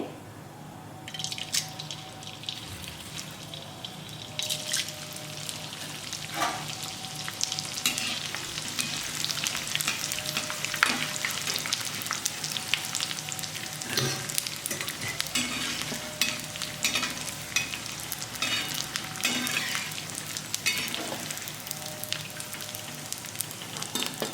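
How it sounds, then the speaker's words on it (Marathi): Edible gum (dink) fries in plenty of hot ghee in a wok, giving a steady, close sizzle with crackling pops and occasional stirring scrapes for the whole stretch, with no talking. "आता याच कढईत आपण डिंक तळून घेऊ। डिंक तळण्यासाठी जरा थोडंसं जास्त तूप घालायचं।"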